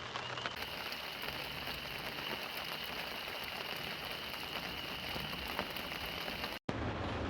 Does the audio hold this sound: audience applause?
no